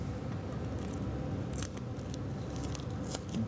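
A blade makes quick zip cuts to trim excess fiberglass from a wooden paddle, giving close, dry scraping and slicing strokes in short bursts over a steady low background rumble.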